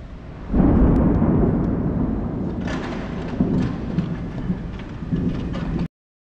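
Heavy, steady rain roars close by, with low rumbling bursts of thunder rolling underneath, then cuts off abruptly.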